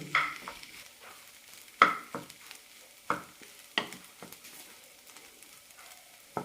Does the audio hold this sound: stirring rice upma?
yes